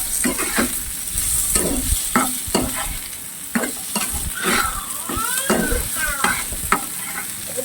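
Potatoes frying in a pan as ginger-garlic paste is added for a Bengali crab, potato and okra dish, steady sizzling broken by repeated sharp stirring scrapes of a spoon against the pan, close and fairly loud.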